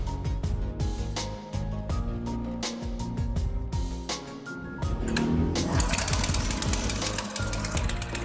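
A Magnus BKM-8/1000 budget petrol cultivator engine is started with the choke closed, sputtering through a few uneven bursts before catching and settling into a loud, steady, rapid chugging idle, close to the microphone with no talk.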